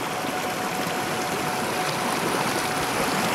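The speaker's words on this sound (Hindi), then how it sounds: "तो ये ज़मीन के अंदर से निकलता है ये पानी" Spring water welling up from the ground and flowing through an irrigation channel in Kinnaur, Himachal Pradesh, a loud continuous rushing gurgle close by, with no talk.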